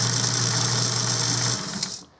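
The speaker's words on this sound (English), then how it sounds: "make sure that this is centered up in your metal lathe is turn it on real quick" A metal lathe runs with a duck call blank chucked on a mandrel, giving a steady mechanical hum and whir for about a second and a half before spinning down and stopping.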